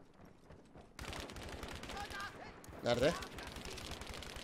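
Rapid machine-gun fire in the shooter Battlefield 5, a fast steady rattle of shots starting abruptly and continuing at moderate level, with a person speaking briefly over it.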